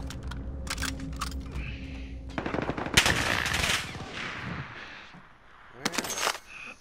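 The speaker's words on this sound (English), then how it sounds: "Where the fuck am I getting shot at?" Rapid automatic gunfire in Call of Duty: Modern Warfare, loud dense bursts with a long sustained volley in the middle and another sharp burst near the end, a brief voice murmuring early on.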